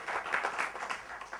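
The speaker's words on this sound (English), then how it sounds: "give him a big round of applause" Brief burst of audience applause at a Bengaluru talk on editing Google Maps, a soft, roomy patter of scattered hands clapping that stays fairly even through its short span.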